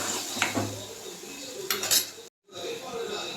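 Soya chunks and masala stirred into oil in a pan, with utensil scrapes and metallic clinks against the pan. Faint kitchen background fills the clip, and it drops to silence for a brief moment near the end.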